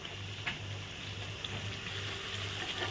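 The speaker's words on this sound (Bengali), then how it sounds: "মশলার মধ্যে আমি ভিজে রাখা আলুটা দিয়ে দিলাম" Soaked potato pieces dropped into hot oil with frying spices in a home kitchen while cooking potol bahar, giving a steady close sizzle with faint bubbling throughout, no voices.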